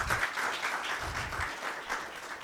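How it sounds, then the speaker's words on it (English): Audience applause at a young CEOs' business forum in 2025, a steady, moderately distant wash of clapping that carries on through the whole stretch. "Let's give him another round of applause."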